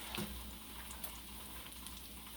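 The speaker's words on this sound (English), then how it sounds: "we've got a pan full of hush puppies now. We're going to let them start cooking till we start seeing them turning brown" Hush puppies cooking in a pan of hot oil give a steady, even sizzle and crackle, with a few brief louder pops near the start and no one talking.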